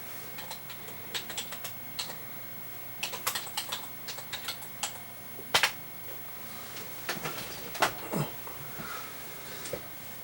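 Rapid clicking of keys on a computer keyboard while typing a search on an MXQ Pro 4K TV box, with irregular bursts of close, crisp taps and brief pauses between words, no talking.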